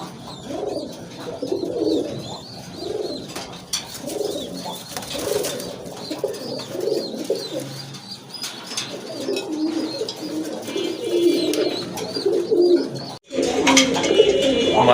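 Pigeons kept in pairs for sale, including a black-and-white pair, coo in close, repeated rhythmic phrases. Faint chirps sound in the background.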